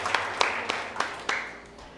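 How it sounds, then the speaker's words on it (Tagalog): Sparse, scattered clapping from a church congregation at a Sunday worship service, a handful of separate claps landing irregularly over a couple of seconds, fairly faint and thin rather than full applause. "Sabi ko po, ipalakpakan natin ang Diyos."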